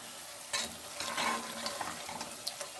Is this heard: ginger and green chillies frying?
yes